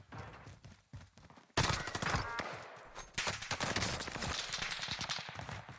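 Rapid automatic gunfire from a Warzone battle in Caldera, with dense overlapping bursts that grow louder and continue almost without pause.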